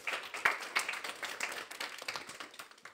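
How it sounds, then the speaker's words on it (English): A small seminar audience claps to welcome a speaker on machine learning and transformers, with faint, scattered hand claps at a distance in a quiet room. "So let's give him a big round of applause."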